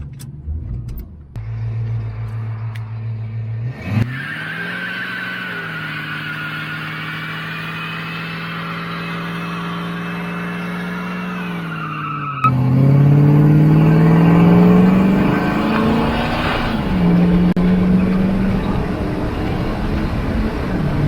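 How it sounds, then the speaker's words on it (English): A Ford Foxbody with an automatic overdrive transmission idles, then its engine holds a long, loud, steady drone before jumping into a harder, louder rev for a burnout. The sound is close and continuous, and nobody talks. "She'll do a burnout."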